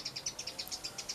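Small bird chirping outdoors in a garden beside Rosa rugosa rose hips, a quick steady series of about ten high, bright chirps, fairly faint and close, with no talking.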